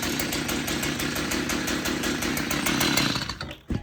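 A hydrolocked chainsaw engine, water-damaged and running again, idles in a steady close buzzing putter that holds for several seconds before sputtering and dropping off near the end.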